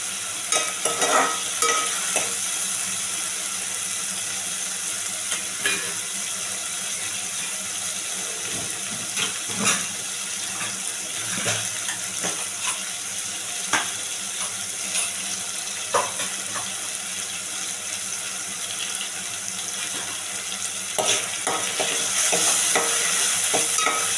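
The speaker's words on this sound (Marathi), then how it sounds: "आता वाटण पण चांगलं शिजवून घ्यायचं आहे" Ground masala paste for a pomfret fish curry cooking in oil, a continuous bright sizzle broken by frequent scraping stirs and light clinks of the spoon against the pan, close and without speech.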